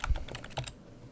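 Quick run of keystrokes on a computer keyboard while entering text in AutoCAD 2014, several close, crisp taps in an irregular burst that stops partway, leaving quiet.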